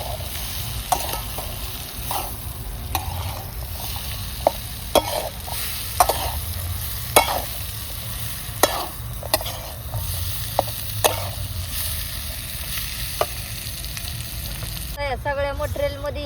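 Tomato and pea gravy sizzles steadily in a pan while a spoon stirs it, with scraping clicks at irregular intervals over the continuous frying hiss.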